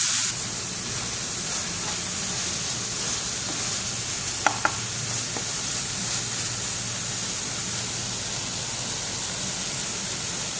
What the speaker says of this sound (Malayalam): ഈ മസാലയെല്ലാം നമുക്ക് എണ്ണ തെളിയുന്നത് വരെ നമുക്ക് വെച്ച്